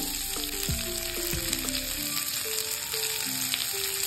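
Pumpkin curry with three slit green chilies sizzling in a pan while being stirred, a steady close frying hiss with soft scrapes under a melodic musical backing.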